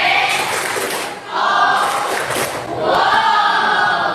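A classroom audience at a school arts extracurricular session gives a loud group clap-and-cheer for a student, with three close, full bursts of massed voices and clapping and brief dips between them.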